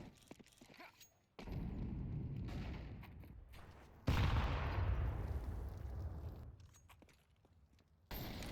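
A grenade goes off in Counter-Strike on the Mirage map, a sudden booming blast followed by a rolling rumble that decays over several seconds, among other gunfire and game noise.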